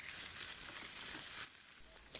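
About 250 g of minced meat sizzles in a pan with softened onion, making a loud, steady frying hiss that drops slightly in level partway through, with a faint stir near the end.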